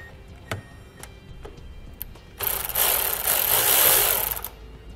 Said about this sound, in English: I'm going to be using a 10 millimeter socket to pull it off.